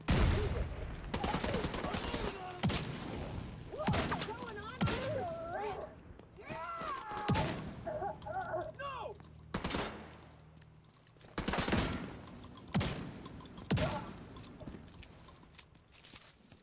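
Shotgun blasts from a third-person shooter game, The Division 2, boom out in loud, spaced bursts amid other gunfire, with someone talking between the shots.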